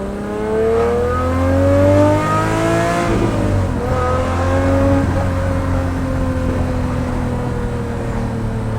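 A straight-piped Lamborghini Murcielago engine drones loudly from inside the car while driving, with steady harmonics that rise under acceleration, dip briefly around a shift, then climb again.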